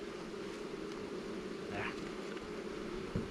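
Steady low honeybee buzzing hums throughout, a continuous drone of many bees close by in a five-frame queen cell builder hive, with a faint brief bump near the end.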